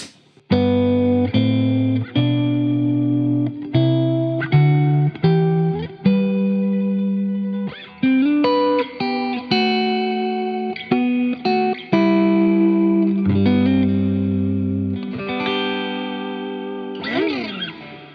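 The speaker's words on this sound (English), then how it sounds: "they use a lot of reverb with a long tail" An electric guitar plays chords and picked notes through heavy effects on a Line 6 Helix, each note washing into a long, lingering reverb tail that hangs after playing.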